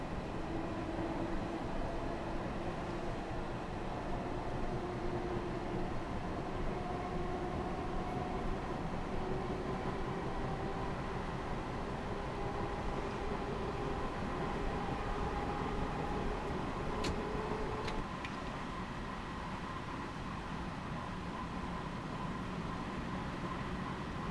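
A Harlem Line train in Train Sim World 3 rumbles along in a steady, continuous drone. A faint tonal whine rises and falls, and brief squeaks come near the end.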